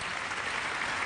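A hall audience at the national Talents des Cités event gives a brief, faint, even wash of applause for Ahmed Reda Smati.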